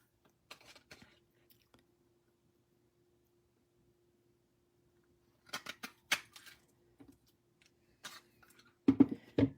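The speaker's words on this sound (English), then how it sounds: "I'm just grabbing a pair of scissors real quick so I can cut that off" A pair of scissors snips in a few quick, sharp clicks, with short bursts separated by near-silence and a faint low hum in the background; close and fairly quiet.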